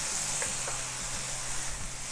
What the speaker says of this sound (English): we're going to saute these onions along with the garlic